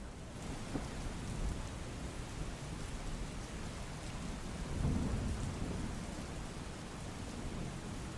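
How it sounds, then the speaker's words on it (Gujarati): Heavy monsoon downpour in Junagadh district, Gujarat, roars as a steady, dense wash of rain, with low thunder rumbling through it and swelling to a louder roll about midway, no voices present. "જૂનાગઢ, માણાવદર, વંથલી, કેશોદ, મેંદરડા સહિતના સમગ્ર વિસ્તારમાં ધોધમાર વરસાદ વરસી રહ્યો છે"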